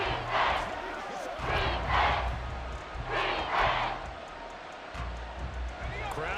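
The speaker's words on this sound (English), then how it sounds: "Crowd getting in it a bit already." A stadium crowd in Madden NFL 24 roars in repeated swelling waves of cheering and chanting, rising and falling several times under a play-by-play commentator's voice.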